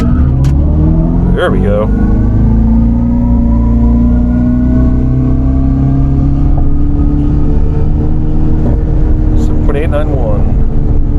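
An electric General Lee car launches and spins its tires at a Hot Rod Power Tour race, a loud sustained whining drive tone with tire roar, with brief talk near the start.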